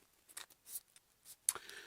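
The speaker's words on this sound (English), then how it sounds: "I'll shuffle those up as well." Cards from the Slay the Spire board game being shuffled by hand: quiet, intermittent papery riffles and flicks in short bursts, with one sharper snap near the end and no talking.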